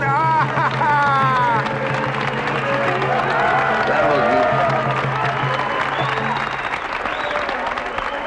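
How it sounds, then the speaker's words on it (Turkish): Audience applause at a Romani-themed comedy show with a belly dancer, steady loud clapping throughout with crowd noise, a few voices and a tonal hum underneath, tapering slightly near the end. "Alkışlar."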